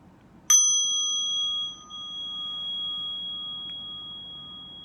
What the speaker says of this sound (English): I will first invite my baby bell with a light sound like this